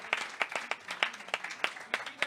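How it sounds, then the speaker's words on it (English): Sparse, rhythmic clapping of a small group, about ten distinct claps spaced evenly over a couple of seconds, close and moderately loud. "let's have a round of applause for our two guests"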